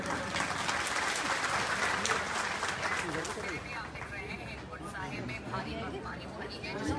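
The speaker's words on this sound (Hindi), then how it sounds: "तालियों से सब लोग स्वागत करेंगे।" Crowd applause at a municipal council swearing-in ceremony for a newly elected chairperson in Gopeshwar, sustained dense clapping that is loud at first and eases slightly toward the end, with some crowd babble mixed in.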